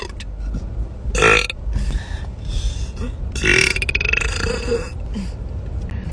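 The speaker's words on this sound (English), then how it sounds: "It's hard to burp." A loud, drawn-out burp up close, with a couple of guttural croaking bursts and a rough, grunting quality over a steady background rumble.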